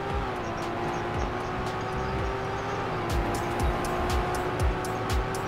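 Engine drone of a slow car accelerating in the Roblox game Car Crushers, a steady rising hum with faint ticking clicks layered over it, continuous and fairly loud throughout.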